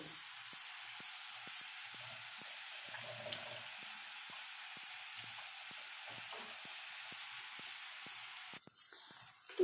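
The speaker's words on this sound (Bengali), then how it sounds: "আবার একটু হলুদ দিয়ে আমি আলু পেঁয়াজটা একটু মশলার সাথে কষে নেব" Potatoes and onions fry in a pan with turmeric and spices, giving a loud, steady sizzle that runs nearly ten seconds with small crackles and a faint stirring scrape, and no voices.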